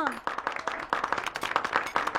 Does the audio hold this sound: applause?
yes